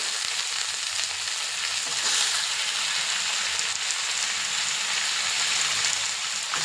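Chicken frying in oil in a home kitchen gives a steady, dense sizzle that holds at an even level throughout, close and loud, with no voices over it.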